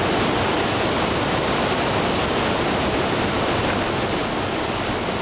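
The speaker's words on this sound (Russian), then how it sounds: "Кажется, вода ужасно громкая." Loud, steady rushing water in the video game Postal 2, a constant broadband roar with no breaks that fills the whole stretch and sounds close and overwhelming.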